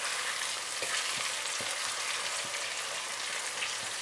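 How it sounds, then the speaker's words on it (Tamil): Egg curry gravy sizzles steadily in a pan while it is gently stirred, giving a constant frying hiss with soft, irregular scraping taps from the spoon. No voices are heard. "லேசாக தான் நான் கிளற போகிறேன்."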